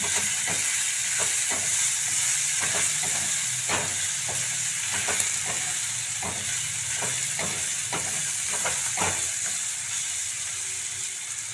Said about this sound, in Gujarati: એને આપણે હલાવીશું